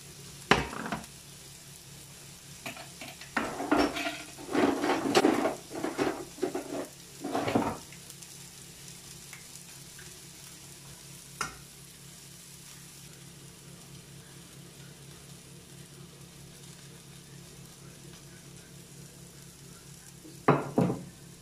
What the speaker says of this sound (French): La poêle est bien chaude. Nous allons pouvoir commencer par mettre les oignons. Vous voyez, ça chante,